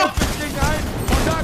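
Video-game gunfire in Fortnite: dense, rapid bursts of shots that crackle through the whole short stretch, with a player's voice talking over the firing.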